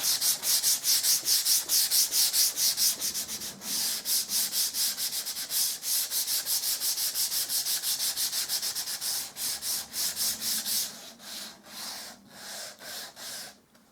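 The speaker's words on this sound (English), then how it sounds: "you can run the sandpaper over it, just to take that complete sharp edge off" Sandpaper lightly rubbed over a primed MDF surface: a fast, steady back-and-forth scratching close up, loud and regular, with the strokes becoming slower, more spaced and uneven near the end.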